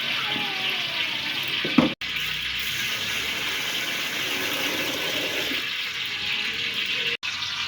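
Water runs steadily into a vessel as rice is washed for chicken pulao, a continuous splashing rush with a brief clatter and a few abrupt cuts.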